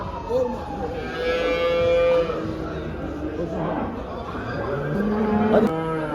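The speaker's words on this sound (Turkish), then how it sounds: "Burada bir adet boş inek var." Cattle moo repeatedly at a busy Havza livestock market, several drawn-out calls near and mid-distance over crowd chatter and background market noise, with people talking throughout.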